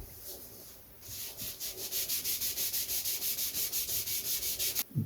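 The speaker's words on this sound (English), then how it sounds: "Again, I'm going to sand that, get the burn marks off." Someone sands laser-cut balsa wing ribs from a Tony Ray Humming Bird model aircraft kit to remove burn marks, making about twenty quick, even back-and-forth rasping strokes, close and alone.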